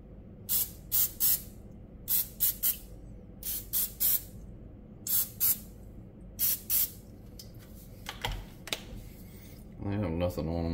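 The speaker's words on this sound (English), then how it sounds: "I'm gonna spray these a little bit with some pan." Short bursts of cooking oil spray hiss from a can, about eight quick sprays in an irregular rhythm, close up, with a soft background hum and a brief rattle near the end.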